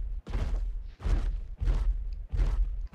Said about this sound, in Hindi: आवाज तो सुनो इसके कदम का।